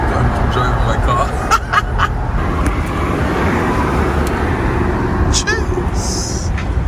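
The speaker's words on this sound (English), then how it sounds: "I'm driving my car." A BMW M235i driving on the road, heard from inside the car: a steady low engine and road rumble with tire noise, continuous throughout, with a few brief higher clicks and tones near the end.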